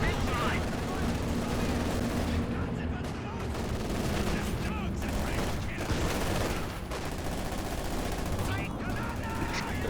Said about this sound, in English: IL-2 bombing strike